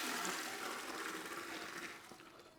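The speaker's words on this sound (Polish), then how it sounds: "Dobra, woda spuszczona" A toilet flushing in a bathroom, a rushing swirl of water that starts strong and gradually fades as the bowl drains, heard alone and fairly close.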